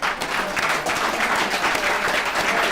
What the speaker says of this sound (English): Let's give Paul another round of applause.